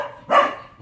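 A pet dog gives a single short, close bark in a quiet room, with faint background hiss before and after.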